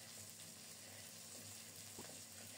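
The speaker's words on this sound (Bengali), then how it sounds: "নেড়ে চেড়ে ফোড়নটাকে একটু ভেজে নেব" Nigella seeds tempering in hot oil in a wok used for mustard-poppy pabda fish, a soft, faint steady sizzle with a single light clink near the end.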